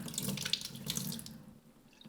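Water and tomato seeds poured into a mesh strainer, a steady close splashing rush that fades and thins toward the end, with no talk.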